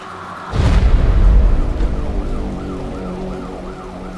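Police sirens wail in from the Resident Evil Requiem video game, a loud burst at the start giving way to repeated rising and falling siren sweeps over a low rumbling background.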